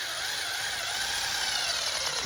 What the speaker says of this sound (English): we have to have a screw that has a little drill bit point to it